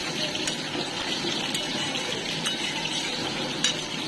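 A Bengali dumur (fig) and shrimp curry being stirred in a pan after ghee and garam masala go in, with a steady low sizzle and occasional faint clinks of a spoon against the pan, no talking.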